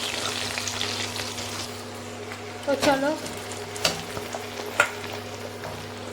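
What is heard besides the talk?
onions frying in oil in a pan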